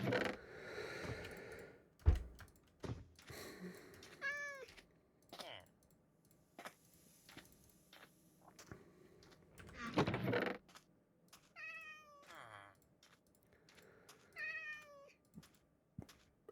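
A cat in the video game Minecraft gives several rising, pleading meows, scattered among rapid keyboard typing and mouse clicks at a computer, all fairly quiet.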